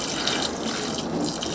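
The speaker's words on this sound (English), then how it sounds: "So I'm going to re-pour the water back into the 3021." Water is poured back into a Hoover 3021 spin dryer, a steady broadband splashing gush that stays even and close from start to finish with no voices.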